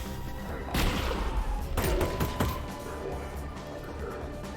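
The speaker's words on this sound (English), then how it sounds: "Why are they shooting at me through the wall?" Gunfire in Half-Life: Alyx coming through a wall, a few muffled bursts and thuds clustered in the first half, then fading into a low rumbling background.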